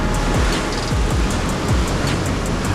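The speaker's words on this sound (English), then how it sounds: "So that's the edge where the waves are breaking." Ocean waves breaking on a beach, a loud continuous wash of surf with wind noise, heard alone without voices.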